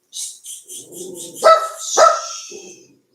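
A dog barks at the postman arriving at a house, a couple of loud close sharp barks with yips and whimpery sounds around them, heard alone.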